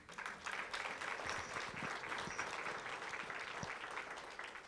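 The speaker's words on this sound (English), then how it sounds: "you should be clapping for yourselves for that" Audience at a mayor's small business conference gives steady, even applause, a continuous rustle of many hands clapping at a distance that stays fairly quiet throughout, with a few low thumps scattered underneath.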